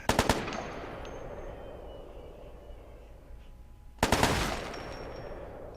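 Three-round bursts of rifle fire in Ghost Recon: Future Soldier: one sharp burst at the start, a quiet stretch, then a second loud burst, with no talk.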